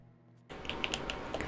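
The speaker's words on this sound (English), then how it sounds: "R1 and hear this clicking sound, but it doesn't really result in anything" Repeated clicking from pressing R1 in the video game Alan Wake, a handful of light, crisp clicks spaced irregularly over a steady game background hum, close and moderately quiet.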